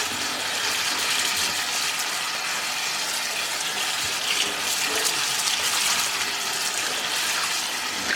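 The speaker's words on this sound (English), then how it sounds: "when you're washing any kind of herbs, you always want to use cold water, never hot water" Cold water runs and splashes steadily into a kitchen sink as freshly harvested stevia herbs are washed, a loud, continuous broadband gush that stays fairly even throughout, with no talking.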